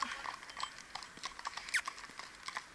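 Mérens horses walking along a road, with light, irregular hoof clops sounding at a moderate distance over faint outdoor background noise.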